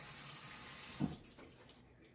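Tomatoes rinsed under a running kitchen tap, a faint steady rush of water with a brief splash and clunk around the middle.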